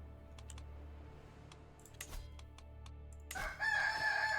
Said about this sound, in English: Yeah, cock-a-doodle-doo.